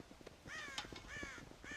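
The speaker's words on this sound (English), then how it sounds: "God damn crows!" Crows in the Red Dead Redemption video game give three hoarse, raspy caws in quick succession, fairly quiet and slightly distant, set against a soft ambient background with no speech.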